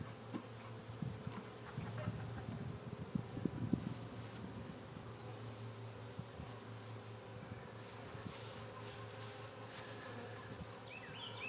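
Faint, steady buzzing of honey bees around freshly split hives in an outdoor apiary, a continuous low drone with a few nearer passes and light background noise.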